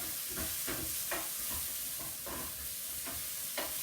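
Vegetables frying in walnut oil are stirred in a pan, a steady close sizzle broken by repeated scraping strokes of the spoon at an irregular rhythm, with no talking.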